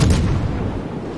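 Naval cannon fire from a ship in World of Warships booms close and loud as one heavy blast with a rumbling tail.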